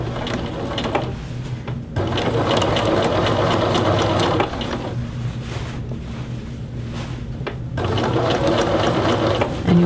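A sewing machine runs steadily up close while edge stitching the yoke of a men's shirt, a loud continuous whirring hum with brief pauses and restarts that suggest back stitching.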